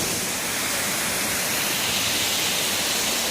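Melincourt Falls, a waterfall in South Wales, roars as a steady, dense rush of falling water heard close up and unbroken, with no voices over it.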